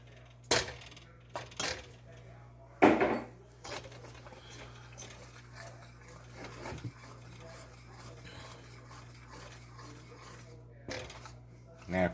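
A utensil stirs and scrapes through thick powdered sugar icing in a bowl for a caramel nut pound cake, with sharp clinks and taps against the sides, fairly quiet and close, while a person talks.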